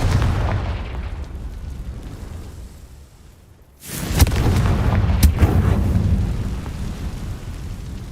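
A loud explosion from the Confringo fire spell in the Hogwarts Legacy video game: a heavy booming roar that rises and holds, with sharp cracks within it and a steady rumbling tail, without talk.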